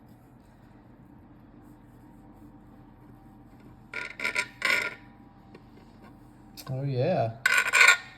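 Serrated bread knife sawing through a jelly roll pastry, a few short rasping strokes in two bursts against quiet background, with a brief spoken exclamation in between.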